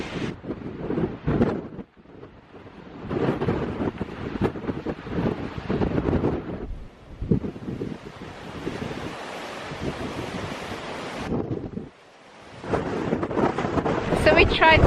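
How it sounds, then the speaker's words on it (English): Strong wind roars across an exposed Cornish clifftop near old mine engine houses, buffeting the microphone in heavy continuous gusts that briefly ease and then surge back, with no clear voices over it. "We're just making sure that you can actually hear us against the wind at the moment"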